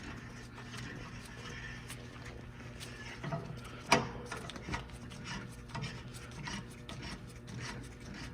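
A reamer rasps and scrapes inside a king pin bushing on a Ford half-ton truck in slow, repeated strokes, close and fairly quiet, with one sharp metallic clink partway through.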